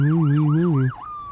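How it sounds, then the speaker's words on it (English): An ambulance siren in the video game The Coffin of Andy and Leyley wails loud and close in a rising-falling two-tone sweep, then cuts to a single flat fading tone as the vehicle hurries off. "Soon the ambulance leaves in a hurry."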